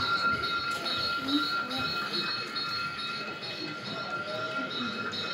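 A model railway running at a public train show, with a steady rolling rumble of the layout mixed with a busy crowd hum and a faint voice or two nearby.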